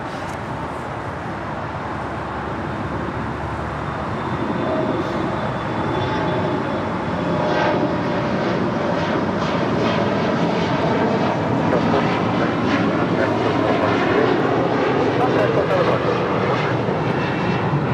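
A Delta Connection regional airliner operated by SkyWest passes at LAX, its engine roar steady and broad, building slightly louder midway and holding near, with faint traffic noise beneath.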